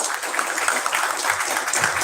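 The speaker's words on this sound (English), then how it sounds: "And give applause to everyone." Audience members at a science event in Shillong applaud everyone involved, a short burst of steady, fairly distant clapping lasting around two seconds.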